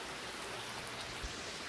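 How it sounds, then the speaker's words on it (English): Steady rain falls outdoors, a soft continuous wash of droplets at low level through the whole stretch, with no voices over it. "Dude, it's raining, it's pouring."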